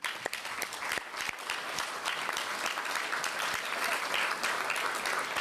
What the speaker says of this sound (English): just a round of applause to interns generally